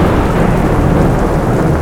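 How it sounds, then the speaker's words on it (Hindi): Heavy thunder rumbles through a rainstorm as a loud, sustained, dense roar with steady rain hiss underneath, filling the whole short stretch without a break. "अचानक से एक तेज बिजली की कड़कड़ाती आवाज"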